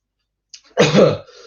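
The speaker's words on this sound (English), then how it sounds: "I'm coughing non-stop, man" A man gives a single harsh cough, a short burst of throat noise that comes in close and loud after a brief quiet pause.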